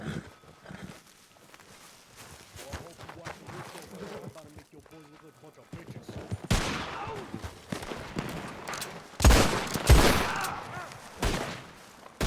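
Gunfire in the WildRP western roleplay game, several sharp shots in quick bursts, loudest near the end, mixed with footsteps and horse movement while people talk over the action.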